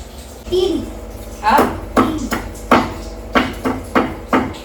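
Quick knife chops through bombil (Bombay duck) fish for frying in a home kitchen, a series of about seven sharp, close thuds in an uneven rhythm with a short voice sound at the start.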